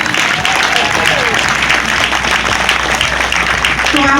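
Outdoor audience at the Revere Beach sand sculpting festival applauding the sculptors: steady, dense clapping mixed with crowd voices and cheers, loud and continuous throughout.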